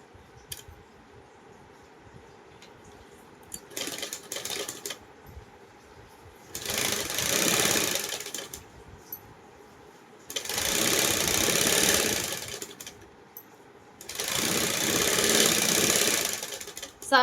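A sewing machine stitching lace onto a small Krishna doll dress, running in three loud, close bursts of rapid mechanical whirring separated by quiet pauses, with a shorter, softer burst near the start.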